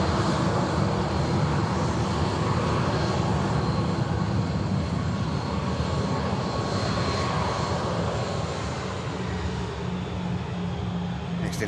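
Lufthansa airliner arriving from Munich, its engines giving a steady, loud broadband roar that holds throughout without break.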